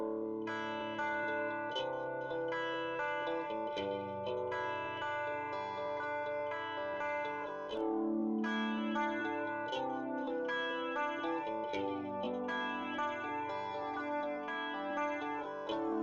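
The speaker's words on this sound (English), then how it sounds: "If the delayed sound arrives much later than the original, we hear it as a separate, repeated iteration, which we all recognize as an echo." A sustained musical tone sequence is run through a delay effect, each note followed by distinct repeated echoes and chorus-like shimmer, played alone without any voice.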